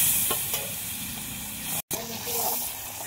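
Chicken curry cooking in a pot over a wood-fired clay stove gives a steady close sizzle and bubbling hiss that runs throughout, broken by one very brief cut to silence.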